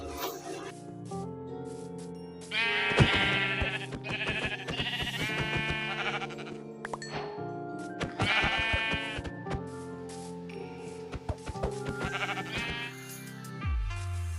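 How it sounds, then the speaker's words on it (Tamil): Sheep bleating in Minecraft sit among continuous game music and sound effects, with several bleats rising out of the dense, steady mix. "எங்கள் கண்ணில் ஒரு 2 ஷீப் மாட்டுச்சு"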